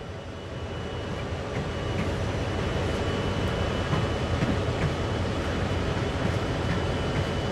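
Steady, even rumble of a train coasting along in the video game Train Sim World, a continuous broadband drone with faint clicks, no voices.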